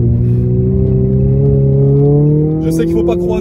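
A Renault Clio 3 RS engine hums steadily as it drives, its pitch rising gradually under loud cabin noise while a voice talks over it.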